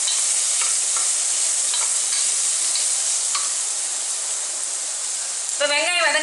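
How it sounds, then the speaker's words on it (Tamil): Small onions sauté in a pan for goat rib bone soup, giving a steady, close, loud sizzle with a few soft stirring clicks, ending in a brief tonal, voice-like sound. "ஓரளவு வெங்காயம் வதங்கினா போதும்."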